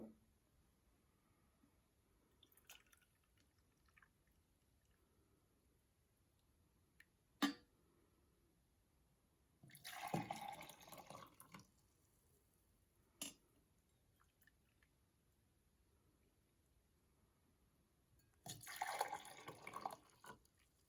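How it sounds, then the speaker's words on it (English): Hot water is poured from a tea kettle into cups in two separate bursts of splashing, with faint drips and quiet pauses in between. "I have a tea kettle full of hot water here. I'm going to add 1 cup of hot water to each cup."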